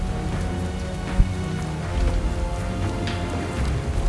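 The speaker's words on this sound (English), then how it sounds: "There's the rain" Steady rain in the video game Turok (2008) hisses evenly as a dense patter with a soft low rumble beneath and one faint thud, continuous and moderately loud without any speech.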